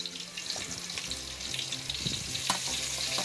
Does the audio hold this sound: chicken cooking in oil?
yes